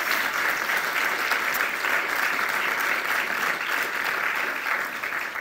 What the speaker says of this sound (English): Can we give the two schools a round of applause?